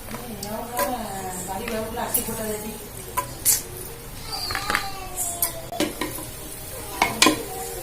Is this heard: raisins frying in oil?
yes